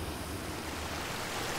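Steady, broadband rushing of river water flowing beside a resting person, constant and fairly near with no voices.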